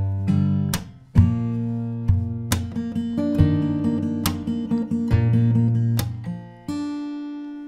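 Fingerstyle acoustic guitar plays the pre-chorus of a song, with plucked bass notes and chords ringing in a steady rhythm, clear and close, with no voice over it.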